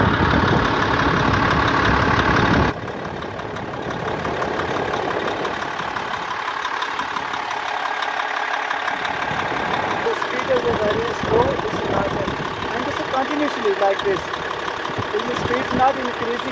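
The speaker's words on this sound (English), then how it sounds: "So here so I have started the machine, and you can see the speed of the fan." A machine's diesel engine idles steadily with its radiator fan spinning, a continuous mid-pitched rumble with a louder burst at the start and some clattering and knocking later; no talk over it.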